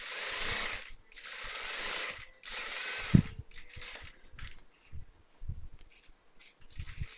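Sewing machine stitching the side seam of a chudithar with long stitches: bursts of whirring mechanical stitching in three runs of about a second each, then a clunk and quieter, sporadic ticks and short runs as the work is adjusted.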